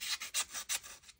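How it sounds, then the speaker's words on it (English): Hand sanding of a 3D printed body panel for a kit 2024 Ford Mustang Dark Horse, heard as a close series of about six rhythmic, raspy abrasive strokes with no talking. "So I'm going to keep doing a lot of sanding."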